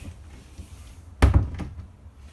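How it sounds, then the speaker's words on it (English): A solid bedroom door in a 2020 Grand Design Reflection 337RLS RV swinging shut with a handle, giving a close, firm thunk and latch click after quiet room tone. "it has a solid door. I'm going to close it with a handle."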